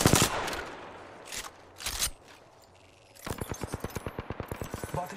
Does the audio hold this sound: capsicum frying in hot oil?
no